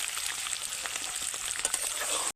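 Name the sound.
eggs coated in gram flour batter frying in oil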